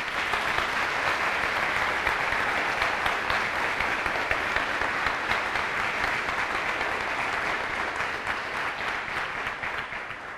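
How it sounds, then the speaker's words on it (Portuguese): A church congregation gives warm, loud applause, a thick, steady wash of many hands clapping that continues for about ten seconds before easing slightly at the end. "uma forte e calorosa salva de palmas"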